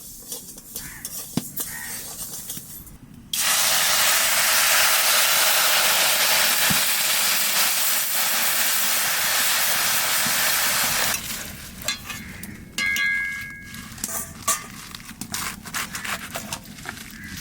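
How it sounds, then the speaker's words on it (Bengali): Loud, steady sizzling bursts up as water hits frying lentils in a hot pan and hisses for several seconds, then fades into stirring and clinking. "ডাল ভাজা হয়ে গেছে আমি জল দিয়ে দেবো"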